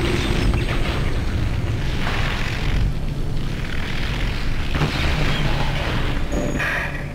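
A deep, rumbling explosion in the video game Dead Space swells into a sustained roaring blast with debris-like crackles, loud and continuous before tailing off.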